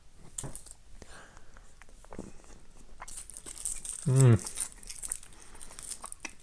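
Foil wrapping is peeled off a Hershey's Kiss chocolate: faint, close crinkling and crackling, with a voice heard nearby.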